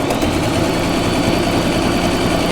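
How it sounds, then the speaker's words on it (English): A Brother LX3817 sewing machine runs with a steady, even motor hum when its foot pedal is pressed gently, a constant close mechanical drone with no talking over it. "and you can hear the machine warming up."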